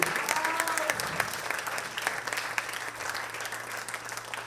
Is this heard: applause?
yes